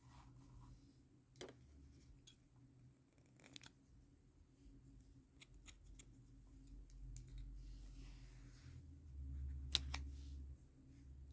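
Scissors cut yarn during crochet work in a quiet room: a few faint, sparse snips and clicks spaced several seconds apart over a soft background hum.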